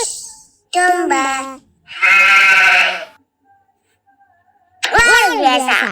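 Three loud cartoon sheep bleats from an animal-feeding video game, each about a second long with short pauses between, close and clear with no talking over them.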